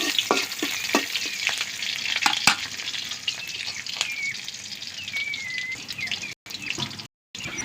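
Steady oily sizzle of a raw spice paste frying in hot oil, with occasional sharp clicks of a utensil stirring against the pan.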